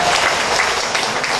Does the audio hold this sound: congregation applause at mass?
yes